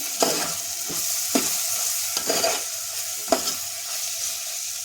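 Onions fry in a pan for a fish curry while a spatula stirs them, a steady sizzle punctuated by four or five regular scraping strokes up close.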